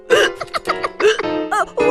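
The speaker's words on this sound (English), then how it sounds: "Oh, I've got to get rid of these hiccups!" A cartoon boy hiccups repeatedly in short, jerky vocal bursts, close and fairly loud, broken up by voiced gulps and squeaks.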